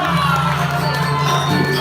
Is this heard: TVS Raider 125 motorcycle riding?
no